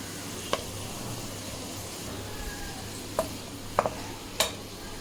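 Onions browning in oil in a pan for mutton paya, a low, steady sizzle with a few sharp spoon scrapes and clinks against the pan, close and without speech.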